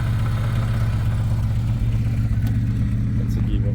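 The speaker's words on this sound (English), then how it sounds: "The gearbox is ticking." Classic Mini running at idle with its gearbox ticking, a fast regular tick riding on a loud, steady mid-pitched engine drone, close up and continuous throughout.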